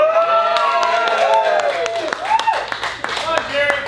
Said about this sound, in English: I want everybody to cheer and scream.